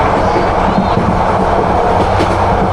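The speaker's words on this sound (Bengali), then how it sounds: "এই হচ্ছে কক্সবাজারের ট্রেনের অবস্থা।" The Cox's Bazar Express, a Dhaka to Cox's Bazar passenger train, rumbles along with a continuous loud rolling roar and faint wheel clatter, heard from inside.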